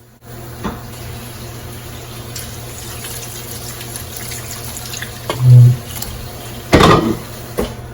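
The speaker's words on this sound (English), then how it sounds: "I'm just going to cover our pasta with water. So just pour water." Water poured from a tap or jug over pasta in a pot while making beef stroganoff, a faint steady running trickle with a brief louder splash and a couple of sharp knocks of cookware near the end.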